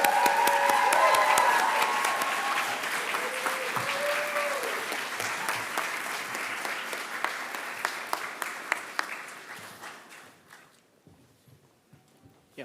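Audience applause for nursing graduates at a Master of Nursing hooding ceremony, dense clapping at first that thins to scattered claps and fades toward the end, with faint voices mixed in.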